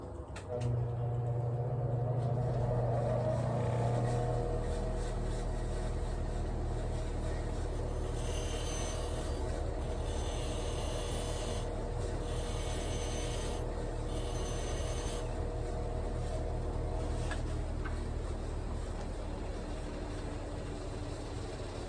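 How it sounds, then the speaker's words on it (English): A grinder working on a Zenith carburetor jet for a 1929 Model A Tudor, a steady rasping, whirring grind that runs continuously and close up for the whole stretch, with no talk over it. "I think what I'm going to do is switch to the grinder instead of the Dremel."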